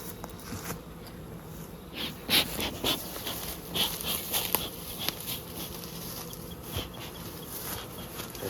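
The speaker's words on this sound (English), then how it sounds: "all we need to do now is just wait for these bees to fly in" Honey bees buzzing as they fly into hives at dusk outdoors, a continuous close hum with scattered louder passes and faint rustling, no speech.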